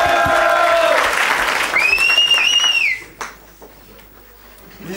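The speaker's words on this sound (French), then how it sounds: "Applaudissez, applaudissez!" Audience applause and crowd noise at the close of a French rap battle event, loud and dense at first, with a rising whistle over the crowd before it drops away abruptly into near quiet.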